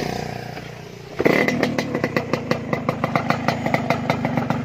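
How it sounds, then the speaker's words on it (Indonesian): A motorcycle engine starts up and runs with a steady, rapid popping putter, close and loud, as the bike sets off toward a fish pond. "ini motor pakai kita ke kolam."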